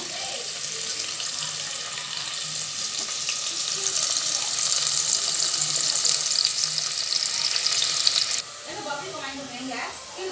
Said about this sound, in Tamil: இது நல்லா பொன்னீர் ஆகிற வரைக்கும் வறுத்து எடுத்துக்குவோம்